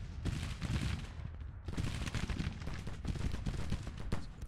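Civil War musket volleys crackle in the Grand Tactician strategy game, dense overlapping rifle fire rolling continuously at moderate distance, with no speech.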